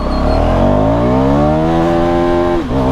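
KTM Duke 390 motorcycle, now 350cc, accelerating hard in first gear on an empty road, a loud close engine howl rising steadily in pitch before a quick dip near the end, with no talking.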